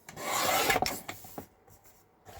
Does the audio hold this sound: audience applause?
no